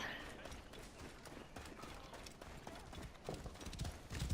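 Horse hooves clip-clop at a gallop in the open-world video game Assassin's Creed Origins, a steady rapid rhythm under light game ambience with faint voice.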